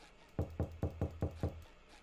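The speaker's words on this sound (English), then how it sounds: "So we knock and then he comes out." Six evenly spaced knocks on a door, close and crisp, in a steady rhythm with a short pause of quiet afterward.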